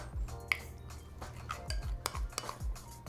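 Utensil stirring a chicken marinade of oyster sauce, soy sauce, cooking wine, cornstarch and pepper in a bowl, with soft scraping strokes and several sharp clinks against the dish at irregular intervals.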